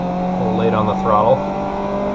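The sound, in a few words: race car engine revving in iRacing video game at Zandvoort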